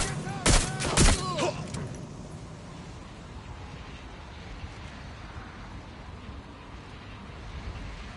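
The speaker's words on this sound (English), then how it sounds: "I'm taking fire!" Gunfire in the video game Watch Dogs Legion: two sharp, loud shots close together near the start, followed by a long low rumbling ambience with faint scattered noise.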